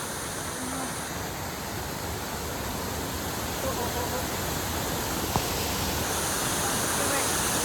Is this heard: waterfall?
yes